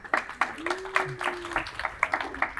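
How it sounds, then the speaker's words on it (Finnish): Audience applause at a book launch event in a library hall, scattered uneven clapping under a talking voice, moderately close, with a sustained tone running through the middle. "Jatka sä aplodit."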